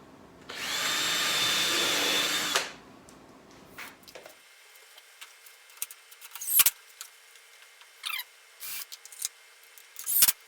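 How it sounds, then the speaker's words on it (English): A power drill whirs steadily for about two seconds, drilling a pilot hole in wood, then stops, followed by scattered clicks and clunks of handling. "Of course, I am drilling pilot holes."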